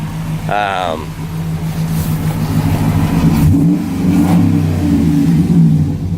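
A Ram truck's modern Gen 3 5.7-liter Hemi V8 revs loudly and close, with a deep, steady engine rumble that swells and holds for several seconds; a brief voice-like sound appears near the start.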